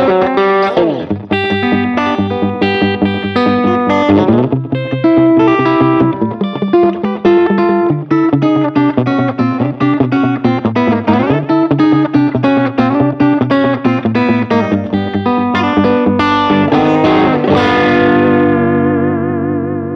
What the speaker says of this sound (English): For echo, we have a slapback, so you get that big, you know, twangy, echoey country sound into a 212 Vox cabinet.